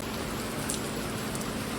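Heavy monsoon rain pours down in Nalasopara, a dense, even hiss of falling water that stays loud and constant throughout with no voices.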